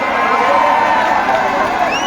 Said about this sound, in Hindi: आप जोरदार तालियां बजाइए